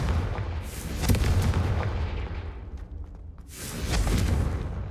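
In the Hogwarts Legacy video game, a Confringo spell blast strikes a brazier, giving loud booming fiery bursts with rumbling crackle, one near the start and another after a brief lull.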